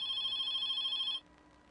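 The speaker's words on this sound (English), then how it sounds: "You hear the phones, right? You ain't supposed to hear the phones." Telephones ringing in a live TV studio, a bright electronic trilling ring held steadily for about a second before it cuts off abruptly, leaving faint background noise.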